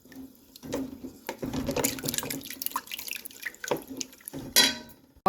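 Water splashes and trickles in uneven bursts as it is poured into a cooking pot of herbal leaves, close and fairly quiet, with clinks and pauses between pours.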